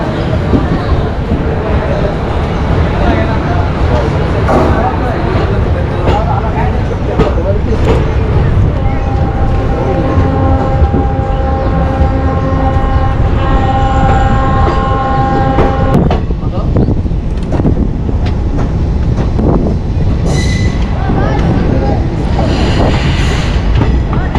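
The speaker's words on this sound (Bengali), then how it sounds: "ট্রেন আমাদের রাইট টাইমে ছেড়ে দিয়েছে আগরতলা থেকে একদম ডট এগারোটায় প্ল্যাটফর্ম নাম্বার তিন থেকে" The Agartala–Silchar Express rumbles steadily along the rails with continuous clatter after leaving Agartala, and a long tonal blast sounds midway. The noise stays loud throughout.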